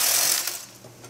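A knitting machine carriage sweeps across a row of needles, giving a close, loud mechanical rattling whir that fades after the first half second.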